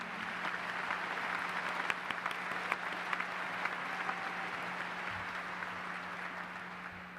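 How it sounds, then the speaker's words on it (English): A Round Rock ISD graduation audience in 2019 gives sustained applause: a dense, even wash of many hands clapping in a large hall, with a low hum underneath and occasional sharper claps standing out. "let's give a round of applause to parents, teachers, counselors, administration, and Mr. Groff"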